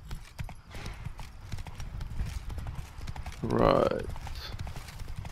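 Horse hooves clip-clop steadily in The Witcher 3: Blood and Wine as a rider urges the mount on, a continuous patter of footfalls under game music and a voice speaking briefly.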